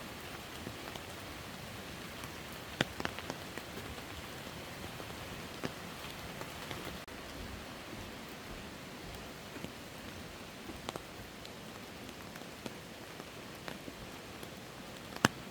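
Soft, steady rain falls through a Korean pine forest in Gapyeong, Gyeonggi-do, a dense hiss of drops with occasional louder taps from nearby drips, calm and without voices.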